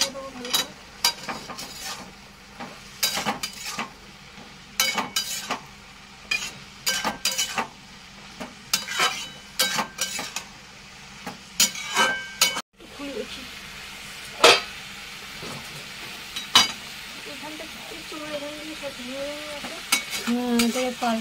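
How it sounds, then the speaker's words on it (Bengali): Vegetables with coriander-cumin powder stirred in a frying pan, with repeated clanking spoon-on-pan strokes in an irregular rhythm over a low sizzle, close by, and a voice talking in the later part. "এবার একটু নাড়িয়ে চালিয়ে দেবো ভালো করে"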